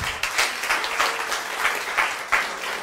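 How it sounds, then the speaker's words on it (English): Applause from a church congregation for its prayer chaplains, with separate claps showing in an uneven, light rhythm at moderate volume and no one speaking. "Please give our prayer chaplains a round of applause."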